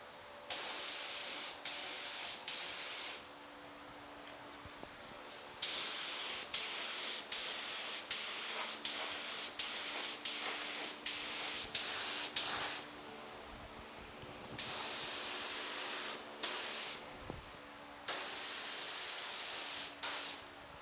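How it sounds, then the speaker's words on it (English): A paint spray gun lays a full wet coat on a truck fender being repaired after a deer collision: repeated bursts of steady hissing spray, each a few seconds long, separated by short pauses, close and even. "I'm just going to start spraying right here, work our way down, get a full wet coat on it"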